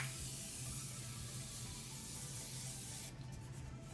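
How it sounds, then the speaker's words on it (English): A faint, steady hiss of a Morphe cosmetic setting spray being misted, continuous for several seconds, then tapering off near the end. "I'm just going to go ahead and use my Morphe setting spray to make everything melt into"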